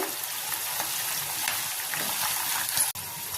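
Peanuts, mustard seeds, cumin, dried and green chillies and curry leaves frying in hot oil for a tamarind pulihora paste, a steady dense crackling sizzle with a few sharper pops and a brief cutoff near the end.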